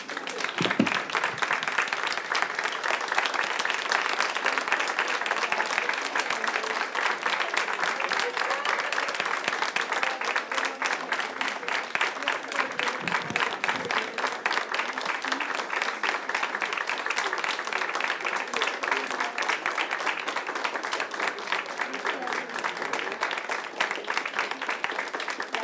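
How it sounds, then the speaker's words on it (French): Sustained applause from a standing audience at a university lecture honoring a guest speaker, dense rapid clapping that stays loud and steady throughout with faint crowd murmur beneath. "J'aimerais ça qu'on se lève et qu'on applaudisse Mme Cohen"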